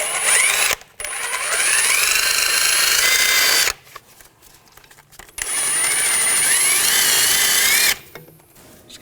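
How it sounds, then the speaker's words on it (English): A powered wire brush scrubbing rust from a sway bar link nut on a 2000-2006 BMW X5 front suspension, two long loud whirring runs separated by pauses. "I'm just going to use a wire brush."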